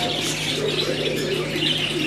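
Pigeons at a sale of mixed lots, including flock pigeons, homers and Lahori birds, give soft, continuous cooing and faint chirps close by over a steady low hum, with no talk.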